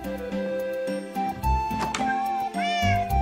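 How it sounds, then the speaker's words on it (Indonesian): Minecraft cat meows ring out clearly several times against looping in-game background music, each meow brief and close, with no voices. "Kucing, jagain rumah ya."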